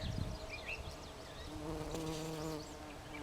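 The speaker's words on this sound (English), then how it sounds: "I don't know if you can hear them, but there's large bumblebees." Large bumblebees buzz steadily around flowering Siberian pea shrub outdoors on a cool, cloudy day, a faint continuous hum with wavering tones as individual bees move close and away.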